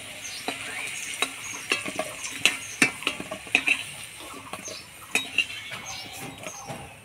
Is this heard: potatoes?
yes